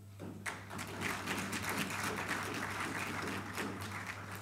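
Applause erupts from an audience during a political speech. It is a dense, steady clatter of many hands, fairly distant, running for several seconds over a constant low hum.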